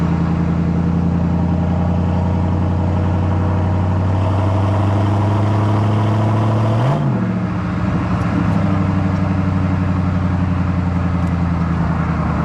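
A 1998 Pontiac Trans Am WS6 with a quiet catback exhaust cruising down the road, its steady V8 drone heard from inside, a brief gear change midway, then the engine settles again.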